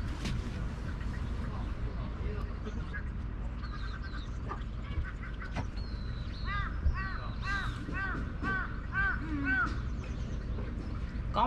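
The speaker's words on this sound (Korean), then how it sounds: "까마귀 대박" Crows cawing outdoors at a mountain campsite, a run of repeated harsh calls in the middle and later part over steady background noise, with people talking nearby.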